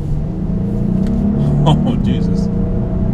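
A 2018 Genesis G80 Sport pulls hard at full power on a road, its engine holding a steady, rising drone from inside the cabin while a man briefly exclaims over it.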